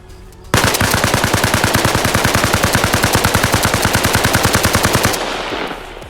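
Automatic gun in Arma Reforger loaded with a 45-round magazine, firing a loud continuous burst of rapid, evenly spaced shots for about four and a half seconds before stopping, followed by a fading echo.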